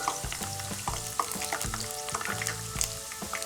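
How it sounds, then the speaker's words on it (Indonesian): Potatoes frying in hot oil for Padang-style dendeng balado, a steady close sizzle with repeated crackling bursts and stirring scrapes throughout, no voices. "Ayo kita mulai goreng kentangnya."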